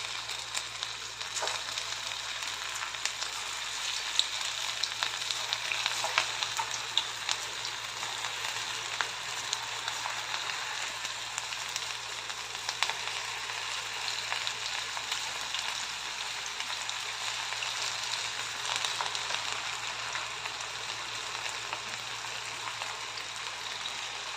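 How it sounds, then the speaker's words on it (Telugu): Leftover idli pakodas sputter in hot oil over a medium flame, giving a continuous dense crackling sizzle, steady and close, with no voices. "మీడియం ఫ్లేమ్లోనే ఇలా ఫ్రై చేసుకోండి"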